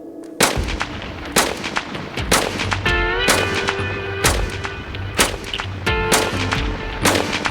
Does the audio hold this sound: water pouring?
no